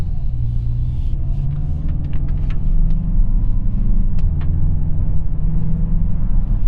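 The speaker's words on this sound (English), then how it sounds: "you do hear some of the engine noise as you accelerate, but I think for a 4-cylinder turbo engine, that's a pleasant noise" A 2021 Mazda CX-5 Carbon Edition with a four-cylinder turbo engine accelerates, giving a steady low rumble of engine and road noise heard from inside the cabin, with no talking.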